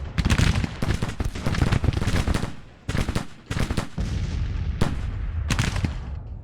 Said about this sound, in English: Looks like he's got his artillery firing on me now.